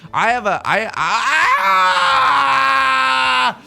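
A streamer's loud, sustained scream during a game of Mahjong Soul, rising from a few wavering bursts into one long held shriek close to the mic.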